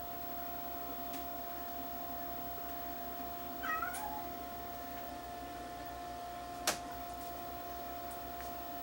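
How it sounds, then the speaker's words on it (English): A cat meows a few times, fairly close and brief, over a steady electronic hum and ticking from a Sony DHR1000 video deck playing nearby. "Cat's coming in to visit me."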